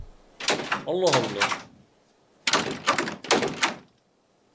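An indoor door swings shut with a solid thunk and a lock clicks, under and between stretches of close, animated talk.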